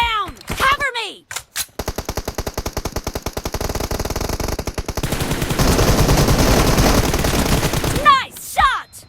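Video game gunfire rattles out as a rapid, evenly spaced burst of shots that merges into continuous automatic fire, loud and close, with short game voice callouts before and after.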